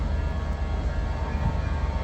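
Transport for Wales train passing at a station platform, a steady loud low rumble and hum filling the whole stretch without a break, no talk.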